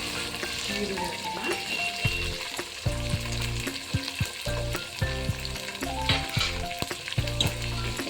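Onions frying in hot oil for a mushroom biryani, a steady close crackle and sizzle with scattered pops and the clink of stirring, no voices.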